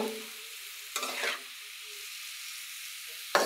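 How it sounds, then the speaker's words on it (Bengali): Spinach with prawns stirred in a pan, a quiet low sizzle with a couple of distinct scraping strokes, one mid-way and another at the end. "ভালো করে নেড়ে ছেড়ে দিব"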